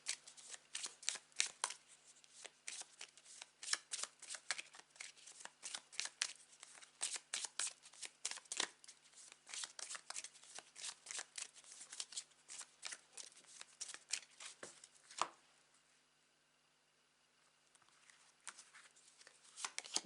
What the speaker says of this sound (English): Let's see what core cards you're going to get for October.